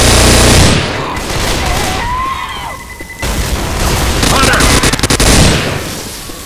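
Left 4 Dead 2 combat: a loud, close grenade blast opens, followed by a rumbling lull and then rapid bursts of gunfire, with shouted in-game voices mixed in.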